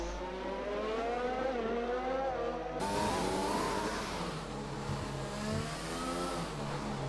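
An F2 race car engine in a racing game on the Baku street circuit in Azerbaijan, a steady high-pitched whine that climbs through the gears, sharply resetting near the three-second mark, with no talk.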